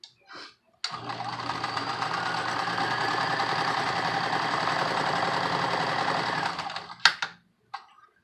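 A sewing machine stitches a fabric face mask in one continuous close run of rapid, even needle chatter lasting several seconds, framed by short clicks and handling noises.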